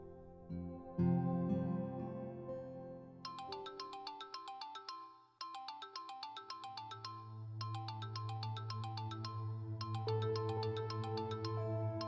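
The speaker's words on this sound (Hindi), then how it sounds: "देखो कब से तुम्हारा फोन बज रहा है" A mobile phone ringtone plays a repeating electronic melody in several loud, evenly spaced phrases, following a brief bit of music and over a low steady background hum.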